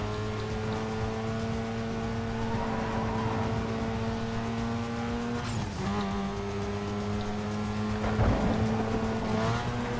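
Race car engine in Need for Speed: Most Wanted drones steadily at high revs throughout, with a sharp shift or skid near the middle and a brief tire squeal toward the end.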